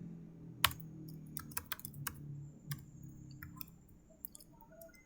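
Keys tapped on a computer keyboard in scattered clusters, a sharp click at the start and then lighter irregular keystrokes, close over a faint background hum.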